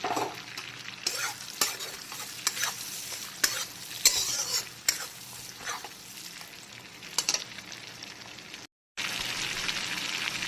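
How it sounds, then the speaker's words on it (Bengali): Black cumin and bay leaves sizzle in hot oil left from frying potatoes and prawns, a steady frying hiss broken by sharp stirring scrapes and clatters, close and alone. "আলু আর চিংড়ি ভাজার তেলে প্রথমে দিয়ে দেব কালো জিরে আর তেজপাতা ফোড়ন"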